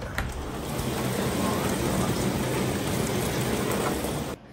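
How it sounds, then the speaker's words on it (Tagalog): Heavy rain pours steadily in Germany, a dense, loud hiss and patter that stays constant throughout and cuts off abruptly near the end. "Lakas ng ulan."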